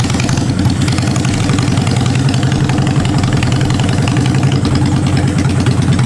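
A custom motorcycle engine idles steadily close up, a loud, even, throbbing low rumble with rapid regular pulses and no talking.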